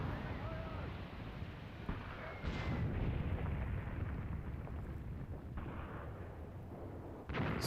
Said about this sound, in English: I've got my artillery falling in this position now